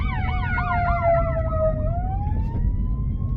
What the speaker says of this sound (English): ambulance is passing and I'm trying to let him go.